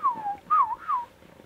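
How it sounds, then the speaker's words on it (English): A person whistles a short, gliding tune of three sliding notes, close and fairly soft, during a truck-camping road trip in the Eastern Sierras. "why do you keep whistling?"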